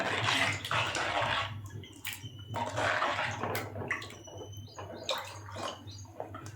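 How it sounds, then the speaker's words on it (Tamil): Water pours in splashy bursts into a cooking pot of green pigeon pea curry, with pauses, clinks and small drips between pours, close by. "இன்னும் கொஞ்சம் தண்ணி சேர்த்துக்கிறேன்"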